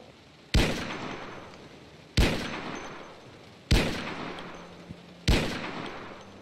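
Four sharp, loud pistol gunshots from the video game Project Zomboid ring out alone, spaced about a second and a half apart, each with a short decaying tail.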